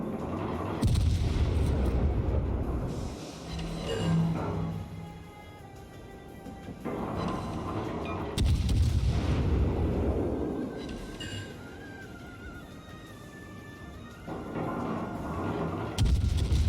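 Heavy naval gun salvos from the German cruiser Hindenburg in World of Warships, deep booming blasts arriving in several separate bursts with rumbling decay between them, loud and close.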